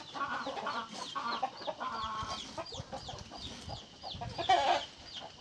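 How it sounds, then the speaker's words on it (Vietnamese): Chickens cluck and squawk all around a chicken coop, with overlapping rhythmic clucks from several birds at close to middle distance and an occasional louder burst. "nhiều gà nó quanh quẩn, nó đến nó xem mình làm quá, điếc hết cả tai"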